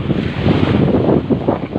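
Surf rolling onto a beach in San Juan, Batangas on a summer day, a loud continuous wash of waves mixed with heavy wind buffeting the microphone, no voices.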